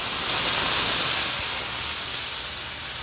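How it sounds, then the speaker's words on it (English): A steak sizzles in hot grapeseed oil in a pan, a bright, steady hiss that stays loud and even throughout, with no voices. "Okay, so I'm going to take my steak here and I'm going to place it in the pan"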